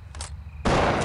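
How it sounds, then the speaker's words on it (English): Shotgun gunfire in the SWAT 4 video game, a single sharp loud blast near the end after a brief quieter stretch. "Readying shotgun."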